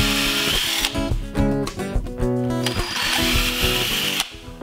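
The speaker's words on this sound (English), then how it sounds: "drill a few holes" A power drill bores holes into plywood in a workshop, its motor whining loudly and steadily with shifts in pitch as the bit bites into the wood, then stopping abruptly.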